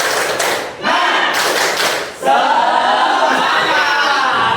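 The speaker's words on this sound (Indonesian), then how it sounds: "Oke, tepuk semangat." A group claps together in bursts, dense and loud, with crowd shouting mixed in between rhythmic volleys.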